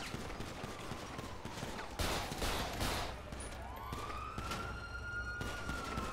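Gunfire in a police-themed video game street shootout crackles beneath a wailing siren, with sharp cracks scattered over a steady background of game sound.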